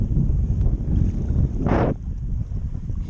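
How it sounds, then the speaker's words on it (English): Strong wind buffets the microphone in a steady low roar while Hobie kayaks are paddled on open water, with one brief brighter gust or splash in the middle. "we're battling this wind"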